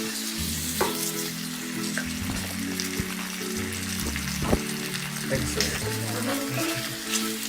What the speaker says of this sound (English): You're gonna mix this up.